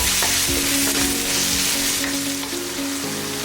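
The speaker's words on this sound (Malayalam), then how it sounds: "ഇനി ഇതിലേക്കായി കറിവേപ്പില ആഡ് ചെയ്യുക. നന്നായി ഇളക്കി കൊടുക്കുക." Curry leaves sizzling loudly in hot oil in a pan for squid roast, a dense crackling fry with a few stirring scrapes, close and unbroken by voices.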